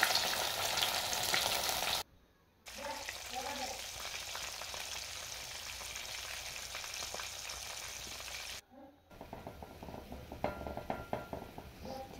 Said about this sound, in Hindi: हमार माछ फ्राई होके रेडी हो गल